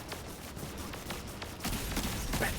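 Gunfire from the video game Destiny, a rapid string of sharp shots from a hand cannon, heard fairly faint with a denser, louder burst of firing near the end.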